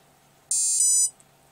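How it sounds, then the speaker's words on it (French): Drone ESC paired with a KK2.0 flight controller on a LiPo battery during calibration, giving one short, loud, high electronic beep tone, close and alone. "Voilà, on entend le bip. Donc 2 bips, ça veut dire que c'est validé."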